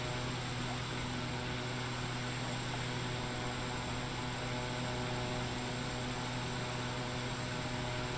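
Steady, droning hum of a PC-12 turboprop engine throttled back in a flight simulator game, constant and even throughout with no talk.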